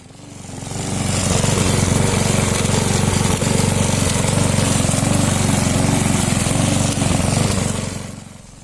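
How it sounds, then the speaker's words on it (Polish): A MEEC TOOLS 2kW petrol lawn mower with an OHV engine and 41cm cut roars loud and steady, rising in at the start and fading out at the end, with no voices. "to kosiarka spalinowa do cichych nie należy"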